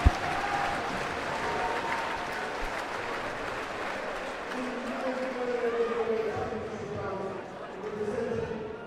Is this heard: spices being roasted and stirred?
no